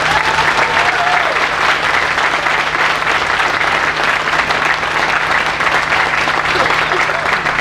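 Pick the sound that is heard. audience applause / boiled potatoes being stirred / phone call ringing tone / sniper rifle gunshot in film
audience applause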